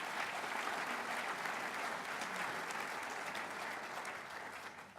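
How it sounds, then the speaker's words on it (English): Steady audience applause fills the room at a Dutchess County State of the County address, dense clapping holding evenly for several seconds before tapering slightly at the end. "You can clap for that."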